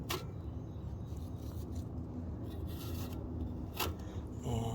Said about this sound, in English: Get the smoker going here with some cardboard. And some burlap.